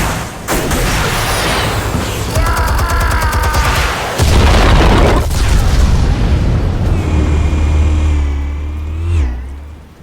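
Explosives detonating in Batman: The Telltale Series, a loud, continuous roar of booming blasts and rumbling low end lasting several seconds, with a second heavy surge midway and layered game effects over it.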